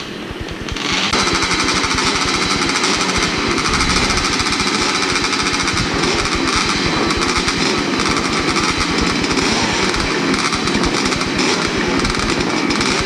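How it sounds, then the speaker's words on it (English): Old port-timed dirt bike engines with single bounce exhaust pipes at a 40-plus hare scramble race rev and buzz together in a harsh, steady two-stroke drone that rises sharply after a second and holds loud throughout. "The old port timed engines, the old single bounce exhaust pipe, they sure sound healthy, don't they?"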